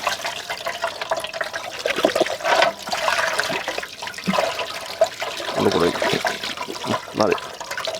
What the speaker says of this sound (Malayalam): ഇത് നല്ലപോലെ ഒന്ന് കഴുകിയെടുക്കാം.